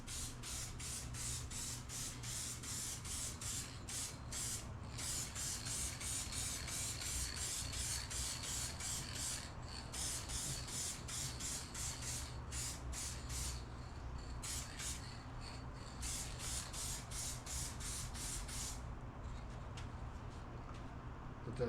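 Spray gun painting a second coat onto a Yamaha outboard boat cowling, heard as a steady hissing spray with repeated short on-off bursts of roughly even rhythm, close and continuous with no talk.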